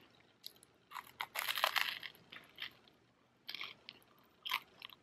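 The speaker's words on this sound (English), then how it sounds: "It's so crunchy because I think I burnt it a little bit on the outside" Crunchy food, slightly burnt on the outside, bitten and chewed up close: a few bursts of crisp crunching with short pauses between, fairly quiet and with no talking.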